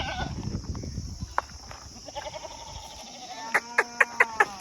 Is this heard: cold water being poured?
no